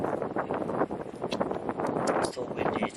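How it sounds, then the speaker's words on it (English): Strong wind buffets the microphone on a rocky shore at high tide, a continuous rough roar with gusty surges that rise and fall. "It's so windy today."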